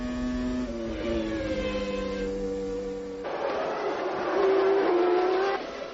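Formula 1 cars from the 1997 season, a Williams-Renault and a Ferrari, race with high, whining engine tones that shift in pitch as they brake and accelerate, loud and sustained, with a rising howl near the end.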